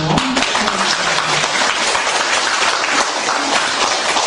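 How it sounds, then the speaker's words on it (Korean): Dense, loud applause fills a Won Buddhist promotion ceremony at Gangneung temple, sustained and even from start to finish with no speech. "큰 박수로"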